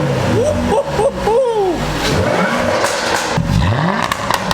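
A crashed Jaguar F-Type with a steering fault and a possible flat tyre is driven into a garage, its engine close and loud, rising and falling through several short revs with scraping and crackling underneath.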